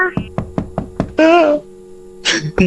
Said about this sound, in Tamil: கபோர்டுக்குள்ள எவனோ கதவை தட்டுறான் ப்ரோ